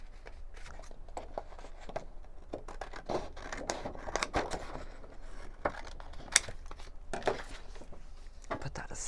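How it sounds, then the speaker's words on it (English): Repeated crisp snips and rustles of scissors cutting through paper in an uneven rhythm, close by, with a voice speaking at times underneath. "Let me grab a bigger pair of scissors."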